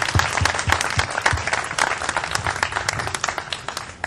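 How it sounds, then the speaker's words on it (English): An audience bursts into applause, with many hands clapping close by in a lively, crowded patter that eases slightly toward the end. "I think we should all give a huge round of applause to George personally"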